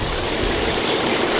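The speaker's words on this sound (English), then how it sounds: "I love these flat heads that make a nice flat head of water come out like that." Garden hose with a flat spray head pouring water into a garden fish pond, a continuous dense rushing splash, close and steady, with no voices.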